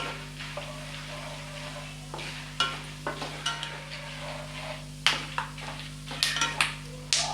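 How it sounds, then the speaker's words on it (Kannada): Ingredients for Uttara Karnataka paper poha roasting in a pan, a soft continuous sizzle under a low steady hum, with irregular scraping and tapping strokes of a spoon growing busier toward the end; no talking. "ಚೆನ್ನಾಗಿ ಇದನ್ನು ಕೂಡ ಹುರ್ಕೊಳ್ಳಿ"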